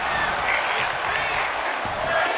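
Wrestling arena crowd applauding and cheering at a match, a dense steady wash of clapping and voices throughout.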